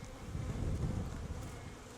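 Honeybees hum in a low, dense drone from an opened hive, steady and close for the whole stretch without any voices.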